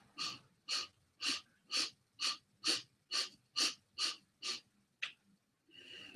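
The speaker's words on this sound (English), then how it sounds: "Breathe all the way out and start the breath." Slow, deep breaths during a guided mindfulness exercise, about ten even inhales and exhales in a steady rhythm, close and clear with no talking over them.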